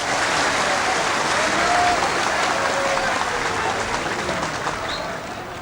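A crowd at a boxing event in Lampang, Thailand applauds as the boxer Samson enters the ring, a broad sustained wash of clapping that softens toward the end, with a voice over it at times.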